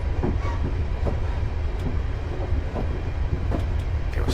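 Express train in Train Simulator 2016 accelerating on a Glasgow Airport rail link route, a steady loud rumble of running gear with faint rhythmic clicks of wheels over rail joints, no talking.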